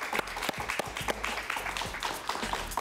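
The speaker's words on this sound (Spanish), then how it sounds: "Un aplauso para él, por favor." Sparse, uneven clapping from a small studio audience during an interview with Cuban exile leader Ramón Saúl Sánchez, individual claps distinct and fairly close, with no speech over them.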